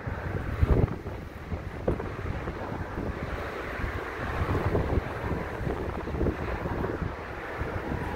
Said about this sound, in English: Very cold and windy here.